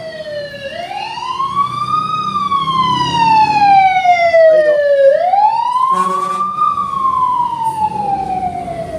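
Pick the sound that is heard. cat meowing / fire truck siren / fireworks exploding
fire truck siren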